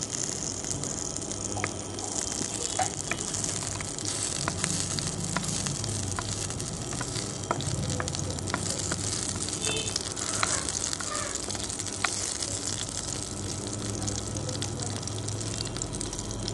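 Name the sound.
cloves and cinnamon sizzling in hot oil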